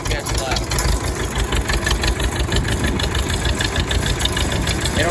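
A tractor engine running in high gear with a transmission that stays stuck in second, a loud, continuous knocking drone close by, steady throughout.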